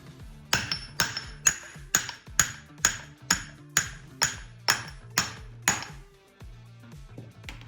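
A hammer strikes the differential of an S14 drift car about a dozen times in a steady rhythm, each sharp ringing metallic hit close and loud, with no talk.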